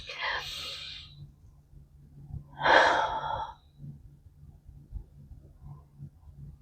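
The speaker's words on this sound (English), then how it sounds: "Let's start this Sunday morning off with a big deep breath." A person takes a big deep breath: a short airy inhale near the start, then a louder, longer breath a couple of seconds later, close to the mic over faint low background hum.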